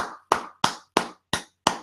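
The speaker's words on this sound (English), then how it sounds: "Give that man a round of applause." Six sharp, evenly spaced hand claps from a single person on a talk show, each clap ringing briefly into near silence before the next, close and fairly loud with no voices.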